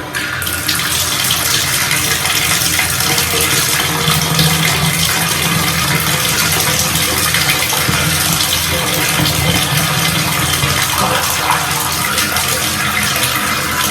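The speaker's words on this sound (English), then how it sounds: "So let's try running some water." Water gushes steadily from a tap into a tub, a loud, constant rushing stream that runs unbroken the whole time.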